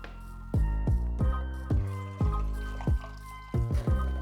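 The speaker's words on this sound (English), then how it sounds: "just pour it back into the container" Stop bath liquid for developing ILFORD HP5 film poured back into its container, a continuous filling gurgle with rhythmic glugs whose pitch rises as the vessel fills.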